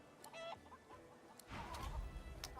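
Hen clucking in the video game Divinity Original Sin 2, a few short clucks standing alone over a quiet background.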